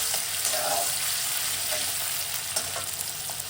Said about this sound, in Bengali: এখন দিয়ে দেব কুচানো টমেটো। নেড়ে চেড়ে নিচ্ছি।